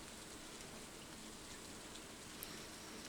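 Steady, dense hiss of falling rain in a video game, soft and even throughout with no voices.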